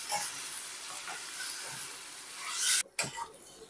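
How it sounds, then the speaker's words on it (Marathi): Sliced onion and tomato fry in hot oil in a kadai, a steady close sizzle and hiss broken by the scrape of stirring, a brief pause, then a sharp rattle before the frying resumes. "टोमॅटो सुद्धा आपण कांद्याबरोबर परतवून घेणार आहोत."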